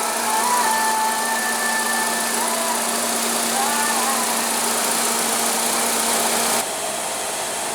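A 2015 Nissan Sentra's 1.8 L four-cylinder engine runs at a steady idle, a close, even hum with a faint whine over it, dropping slightly in level near the end with no talk.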